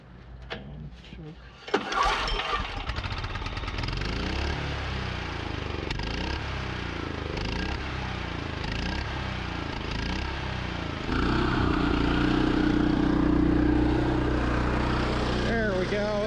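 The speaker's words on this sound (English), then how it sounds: "That's the generator I know and love." A gasoline generator that has sat unused for a while cranks, catches and starts, then settles into a steady, moderately loud running drone that grows a little stronger toward the end.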